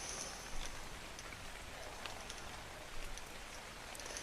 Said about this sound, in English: I'm just gonna turn off the rain.